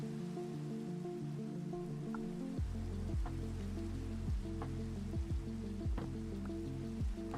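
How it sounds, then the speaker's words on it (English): Rain patters steadily on a surface in Minecraft, with low droning game music running underneath throughout. "Let's see if we can get rid of this rain."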